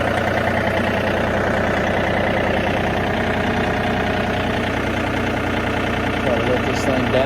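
A John Deere tractor engine runs at a steady, loud, rumbling idle close by throughout, with no clear start visible.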